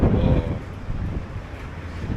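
Wind gusts outdoors near a port, buffeting the microphone with a loud, low roar at first that eases into a steadier rumble of moving air.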